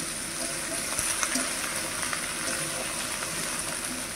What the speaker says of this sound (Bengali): খুব সুন্দর করে লাল লাল করে ভেজে রেখে নিচ্ছে